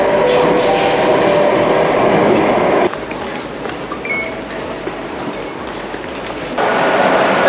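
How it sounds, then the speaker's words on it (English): A busy Singapore metro train rumbles and rattles loudly from inside the carriage, a steady roar with wheel noise that dips briefly in the middle and then swells again. "Busy, busy train."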